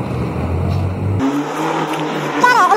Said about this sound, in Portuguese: Vou correr e tentar ver de onde vem esse barulho de moto ou carro.